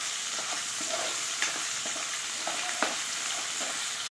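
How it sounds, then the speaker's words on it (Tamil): Onions stirred in a frying pan for a Kerala-style chicken salna, a steady hissing sizzle with scattered light scrapes and taps of the spoon, close and even throughout, with no voices before an abrupt cut. "வெங்காயத்தை சேர்த்துட்டு நல்லா கிளறி விட்டுருங்க."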